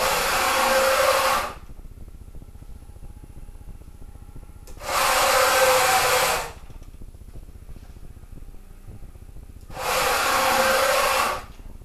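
An AC servo driven mill axis makes fast 500 mm moves at 20 meters per minute, giving three loud broadband whooshing bursts of about two seconds each, separated by quieter gaps, with no talking.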